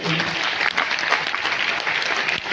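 Loud, sustained audience applause fills a hall at an anniversary event, a dense steady wash of clapping with a faint voice or two underneath.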